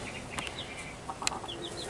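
A mother hen with five baby chicks makes soft clucks while the chicks give thin high peeps, a few brief calls scattered over a steady background hiss.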